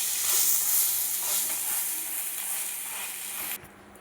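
Garlic butter naan sizzles on a hot tawa over high flame, a loud, steady crackling hiss throughout that drops off sharply near the end.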